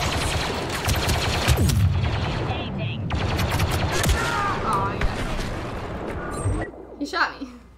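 Blaster gunfire in the Star Wars Battlefront 2 video game, loud dense bursts of rapid shots and booms over battle noise, easing off near the end, with voices speaking over it.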